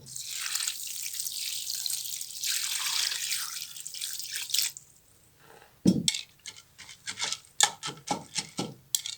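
Water pours into a cooking pot of unsoaked lentils for shami kabab, a steady close splashing hiss for about five seconds, then a pause and a run of short splashes and clinks.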